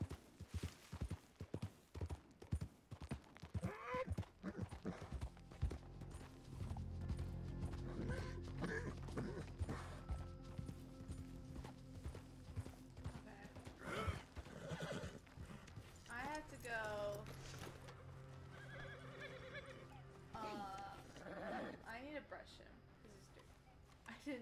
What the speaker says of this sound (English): Because our horse was dirty, so I have to brush him.